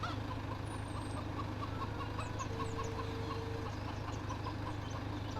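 Chickens cluck repeatedly in a Farming Simulator 17 farmyard, a steady chorus of short calls over a constant low engine hum, with no talking.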